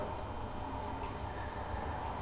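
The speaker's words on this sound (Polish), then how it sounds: "słychać też dźwięki pociągów, które przejeżdżają obok" A continuous, low rumbling of a train rolling past at a distance, steady and fairly faint, with a soft metallic undertone and no voices.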